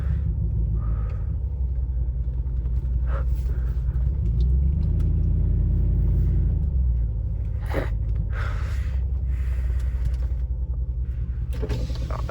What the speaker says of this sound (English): I'm about to do a burnout at this car wash.